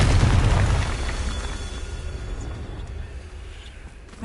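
A Confringo blasting curse explodes in a Harry Potter video game: one loud deep blast at the start that rumbles and slowly fades over several seconds.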